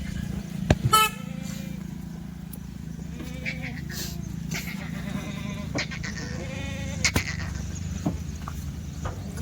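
Kathiawadi goats bleating in short, scattered calls of varying nearness over a steady low rumble of background noise, with several bleats rising clearly above it.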